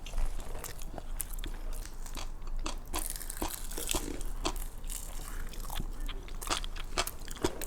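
Crisp, close crunching and chewing of spicy seasoned pickled cucumber (oiji), repeated rapid bites with wet crackle and rustling, no clear talk over it.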